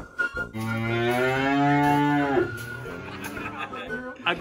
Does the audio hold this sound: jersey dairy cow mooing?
yes